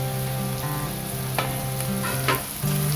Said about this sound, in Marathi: नरम होईपर्यंत आपल्याला हे परतून घ्यायचं आहे।